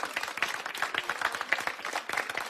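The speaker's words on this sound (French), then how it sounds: "Oui, bien sûr, on peut l'applaudir." Applause from an audience, a dense patter of many hands clapping at moderate volume, steady throughout.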